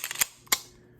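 A Colt 1911 Lightweight Commander .45 ACP pistol has its action cycled by hand, a few quick small clicks followed by two sharp close metallic clacks of the slide, then silence.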